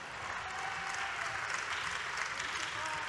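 Audience hand clapping during a political speech at the Fête de l'Humanité, a steady, dense patter that runs unbroken for about three seconds with no voices over it.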